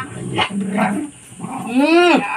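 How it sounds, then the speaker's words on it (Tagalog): A dog barks and yelps several times up close, the last a drawn-out whining yelp rising and falling in pitch. "Talian natin yung aso mo."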